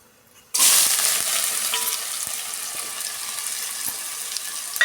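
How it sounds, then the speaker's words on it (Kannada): Onions dropped into hot oil in a pan burst into a sudden loud sizzle that settles into a steady, close frying hiss with a few faint clicks, no voices. "ಈಗ ನೋಡಿ ಈರುಳ್ಳಿ ಸೇರಿಸ್ತಾ ಇದ್ದೀನಿ"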